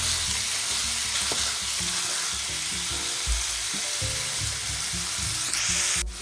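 Ground beef with onion and garlic frying in a pan while being broken up and stirred, a steady sizzle with scraping and knocking utensil sounds, close, with no talk.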